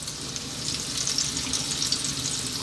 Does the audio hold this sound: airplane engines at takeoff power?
no